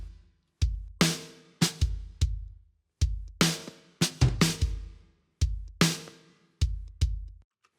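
Isolated drum samples for a punk-meets-classic-rock production play alone: a steady pattern of punchy kicks and bright, crashing snare hits with long decaying tails, about a dozen strikes over several seconds, close and clean with no voices.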